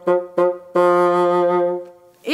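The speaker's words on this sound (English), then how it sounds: "Sometimes on the bassoon, I need to play very, very fast notes. I use my tongue to differentiate those notes." A bassoon plays a few crisply tongued, separated notes close up, then settles into one long, sustained tone before a brief rising note at the end.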